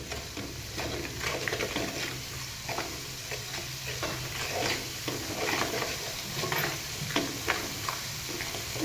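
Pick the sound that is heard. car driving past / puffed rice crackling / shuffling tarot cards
puffed rice crackling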